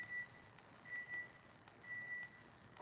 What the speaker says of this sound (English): Something beeping over there.